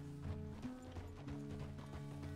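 Horse hooves clip-clop at an even walking rhythm in the Red Dead Redemption 2 video game during ranch work, set over a steady tonal game background at moderate volume.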